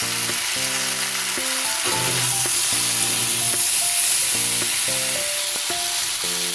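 Drumstick stems and other vegetables fry in a pan with a continuous, even sizzle and light stirring, while steady tonal music plays beneath.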